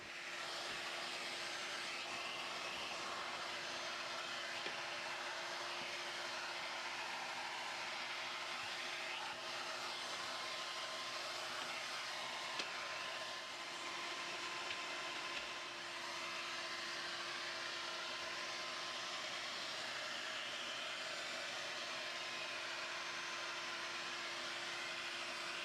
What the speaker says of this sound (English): while we have the filter out, I'm going to vacuum, try and get rid of any additional dust and debris